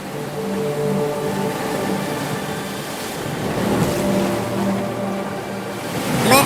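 A cartoon boat motor chugs over the sea, its steady low drone sitting on a wash of waves, and near the end the hum swells as the vessel swings around.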